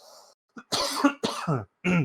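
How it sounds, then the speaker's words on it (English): A few sharp, close coughs in quick succession, with a throat-clearing rasp between them. "Cough."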